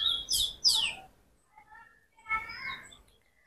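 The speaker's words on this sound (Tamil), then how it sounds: "நல்லா குருவி வந்து நல்லா கத்துறதும்" Sparrows chirp in a rooftop vegetable garden: a couple of quick, bright bursts of tweets, a pause, then another cluster of chirps, fairly close and clear against a quiet background.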